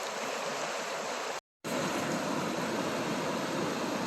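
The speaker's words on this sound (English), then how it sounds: "Not very long, but here's the waterfalls." Constant broadband rush of a waterfall on the North River, dense and steady, briefly cut to silence for a moment before resuming just as loud.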